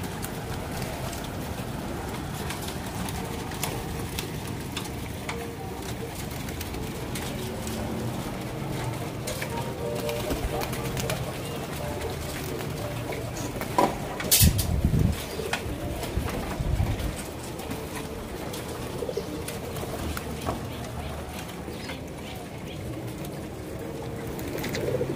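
Pigeons coo softly on an asbestos roof beside a loft in a continuous background murmur, with a brief louder flutter or knock partway through and no voices.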